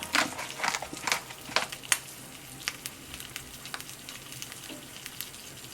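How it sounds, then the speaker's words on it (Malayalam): A bullseye egg, seasoned with salt and pepper, fries in a pan for a steak-and-eggs breakfast, crackling with a close, steady sizzle and sharp pops that are busiest in the first two seconds. "നമുക്കൊരു ബുൾസൈ ഉണ്ടാക്കാം."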